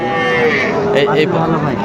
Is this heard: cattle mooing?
yes